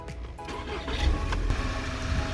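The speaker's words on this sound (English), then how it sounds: "Just started the car up." A 2013 VW Tiguan engine fires up and settles into a steady idle, a low rumble that swells slightly after the first second and holds evenly.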